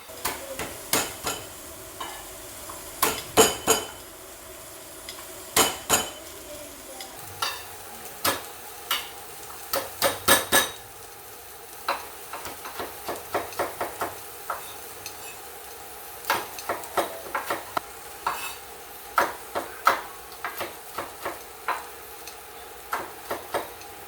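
Garlic sautéing in a pan while a utensil stirs it, producing sharp, irregular scraping and tapping strikes over a soft background sizzle, with clusters of clacks spaced a few seconds apart.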